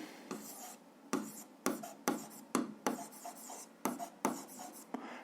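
Pen writing a physics solution by hand on paper, a series of short scratchy strokes in bursts with brief pauses between, close and fairly quiet.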